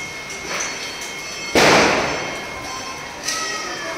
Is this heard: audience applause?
no